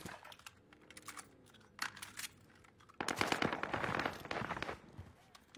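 Gunfire in the military shooter Squad, scattered distant shots at first, then a dense, loud stretch of rapid automatic fire close by.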